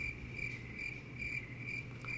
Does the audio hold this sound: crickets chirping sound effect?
yes